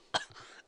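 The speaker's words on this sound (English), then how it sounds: "I think I got a kennel cough." A single short cough with a little throat-clearing tail, close and fairly quiet, alone with no talk around it.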